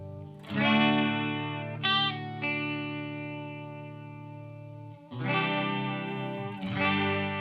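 Electric guitar strums a couple of open chords through a chorus pedal, each chord ringing out with a shimmering, wavering tone; two groups of strums with sustained decay between, loud and close with no talking.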